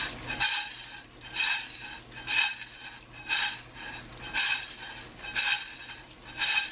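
A metal spoon scrapes and clinks against a frying pan of eggs in steady strokes, about seven in a row, loud and close with no talking.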